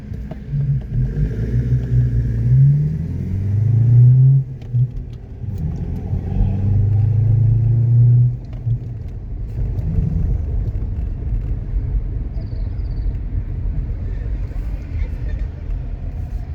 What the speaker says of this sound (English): Now I was just waiting for the car to warm up. I'm leaving.